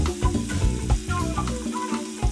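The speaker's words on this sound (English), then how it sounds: "They'll dance around on the sizzling hot Himalayan salt slab for a couple of minutes" Food sizzles steadily on a hot Himalayan salt block, a loud close crackle that fills the whole stretch without a break.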